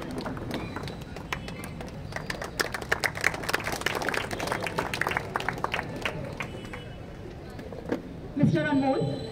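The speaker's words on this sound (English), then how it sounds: "I would like to have a huge round of applause for him" An audience claps at a business event as guests are introduced; dense, steady applause from a crowd fills most of the clip, then tapers off near the end.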